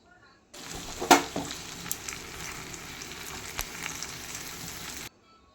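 Chopped tomato with soybean and prawn sizzling in a pan under steady stirring, a continuous frying hiss with a few sharp scrapes and clinks, fairly quiet and close.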